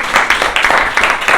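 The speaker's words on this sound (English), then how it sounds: "clapping for Masakali team" A small group claps briefly, a quick flurry of hand claps close by, with no talking.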